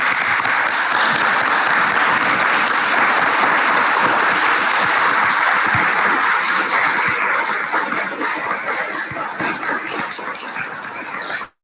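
A lecture audience breaks into sustained, loud applause, a dense, even roar of clapping that holds steady for about ten seconds before thinning and cutting off abruptly.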